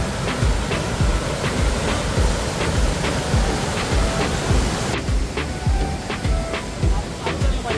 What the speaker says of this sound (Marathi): पाहत आहे समोर सुंदर धबधब्याचं आपल्याला स्वरूप पाहता येईल.